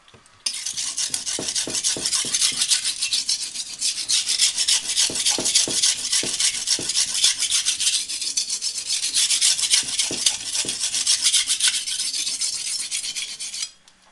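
A blade scraped back and forth on an oiled sharpening stone in steady, close rasping strokes that run continuously for over ten seconds and then stop abruptly.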